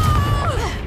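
Confringo blasting curse in Hogwarts Legacy, a short loud boom with a low rumble and a thin tone that bends downward as it fades.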